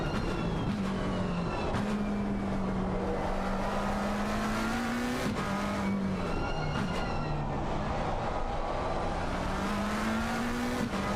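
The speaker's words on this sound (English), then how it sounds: "Got a Lamborghini and a McLaren chasing a Bentley." Lamborghini, McLaren and Bentley race cars running nose to tail at Silverstone in a racing game, a steady droning engine note rising and falling with gear changes and throttle lifts, loud and continuous with no talk.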